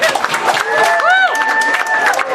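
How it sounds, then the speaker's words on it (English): A crowd at an event applauds with brisk clapping and scattered cheering; voices sound over the applause and a rising-and-falling tonal whoop cuts through midway. "So give a round of applause."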